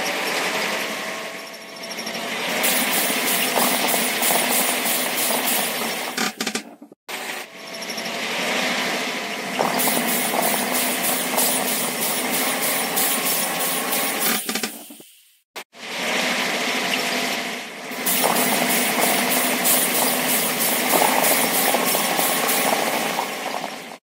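Game engine drone of a plow tractor clearing dry plant remains in a mobile farming video game, a bright, steady mechanical whine in three long runs separated by short silences.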